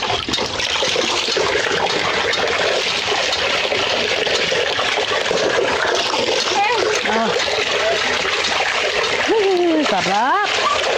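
Water splashes continuously as a child is bathed and scrubbed with soap, a dense close wash of splatter and trickling throughout, with a voice and an adult speaking over it.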